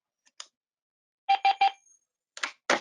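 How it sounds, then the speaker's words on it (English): A phone gives short electronic beeps: a quick run of three tones, then a couple more after a pause, clear and close. "the phone beeps and it sounds like this"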